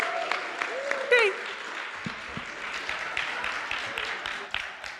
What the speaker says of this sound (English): And I think we should have another applause for Clara, who just kept us moving along.